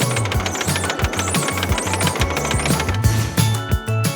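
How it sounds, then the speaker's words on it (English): Conveyor belt on a carrot harvester working in a field, giving a steady mechanical rattle with rhythmic repeated clunks and clatter, loud and continuous with no talk. "Did you hear the sound the conveyor belt made on the harvester?"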